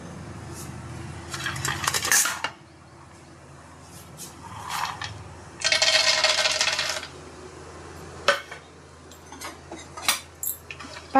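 Peanuts tipped into hot oil in a pan, with bursts of rattling and clattering as they hit the metal and a dense hissing stretch in the middle, close up amid quieter kitchen clinks.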